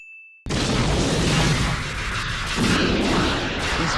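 Missiles firing and exploding in the anime Cowboy Bebop, a sudden loud roaring blast that keeps up as a dense rumbling barrage for several seconds, heard alone.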